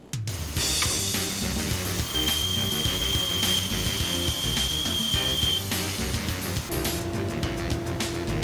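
A power tool runs continuously while shaping walnut planks into xylophone bars, a loud, close whine and rattle with a steady high tone partway through and a shift in pitch near the end.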